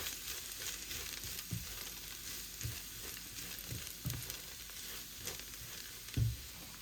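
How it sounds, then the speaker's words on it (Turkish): Barley vermicelli frying in butter for pilaf gives a steady, even sizzle throughout, broken by a few soft knocks of stirring, with no talking. "Şimdi güzel tereyağıyla kavurup suyunu ilave edeceğim."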